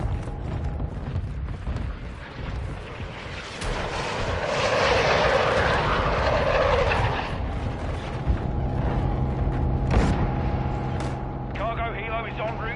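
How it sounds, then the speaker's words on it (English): A cargo helicopter in the Modern Warfare 2 video game flies past with a loud, broad rotor and engine roar that swells and fades over continuous battle noise, with radio-style chatter in the background. "Cargo helo is en route to the AO."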